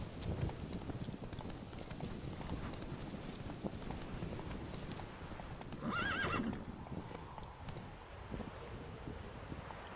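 Roach, the horse in The Witcher 3, clip-clops at a steady gallop through wind and rain, hooves drumming continuously, then lets out a clear whinny partway through before the galloping carries on.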